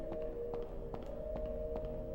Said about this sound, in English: thumping or clock sound combined with occasional bars of happier sounding music